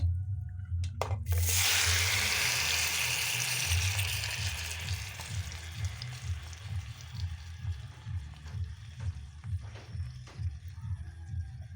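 Marinated chicken dropped into hot oil with a bay leaf and two dried chilies, setting off a loud sudden hiss that settles into a steady sizzle over a rhythmic low thumping, close and with no talking.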